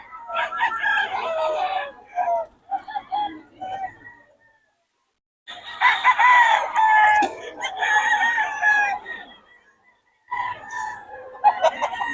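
Chickens and roosters at a market day in Bocaue, Philippines, with loud, close crowing and clucking in several overlapping bursts, separated by short pauses.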